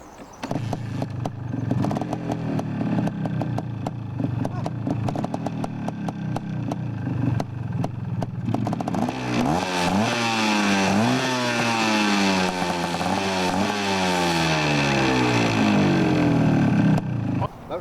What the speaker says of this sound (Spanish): Y a la segunda patada tiene que arrancar.